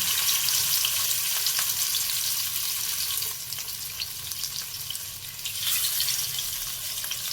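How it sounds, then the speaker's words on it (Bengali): Hilsa fish pieces frying in plenty of hot mustard oil, a dense continuous sizzle close up and fairly loud, swelling slightly at moments, with no talking. "সর্ষের তেলে রান্না করব তাই সর্ষের তেল বেশ কিছুটা পরিমাণে দিয়ে দিয়েছি যাতে করে আমার সবকটা মাছ এই তেলেই ভাজা হয়ে যায়"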